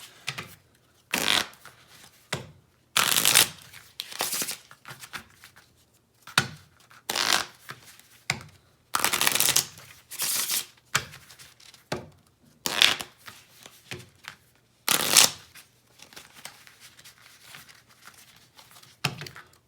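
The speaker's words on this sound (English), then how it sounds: "I'm going to go ahead and shuffle this deck of cards up for you" Repeated bursts of cards being riffled and bridged, crisp fluttering shuffles separated by short pauses, close up with no talking.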